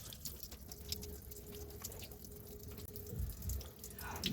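Coolant drains from the radiator of a Toyota Hilux 3.0 D4D 4x4 in a steady, close, splashing stream that runs throughout, like a running tap, with occasional drips and no talk.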